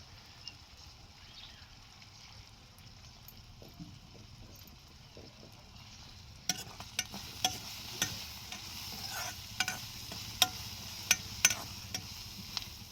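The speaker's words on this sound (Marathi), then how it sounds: "आधी कांद्यात तेलात शिजवून घेणार आहे" Soft continuous sizzling of onions frying in oil, quiet and steady, with sharp clicks and stirring knocks joining in over the second half.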